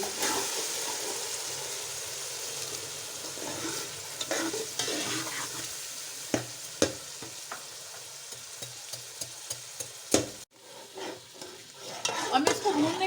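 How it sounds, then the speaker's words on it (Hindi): Peas sizzling and frying in a pot for matar chawal, stirred with scraping clicks of a spoon, a continuous close hiss throughout. "ये भुनने लगा है"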